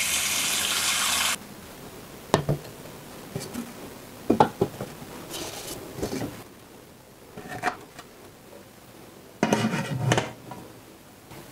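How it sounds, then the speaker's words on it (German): Water runs into the lower pot of a steam juicer in a kitchen, with a brief gushing pour followed by scattered clanks and knocks of metal pots and lids, near and moderately loud. "Jetzt fülle ich Wasser in den unteren Topf."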